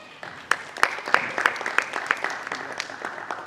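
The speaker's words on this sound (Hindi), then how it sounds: "पूरी टीम के लिए जोरदार तालियां" An audience claps for a ballet team, rhythmic unison claps ringing out at a steady beat over a softer bed of scattered clapping.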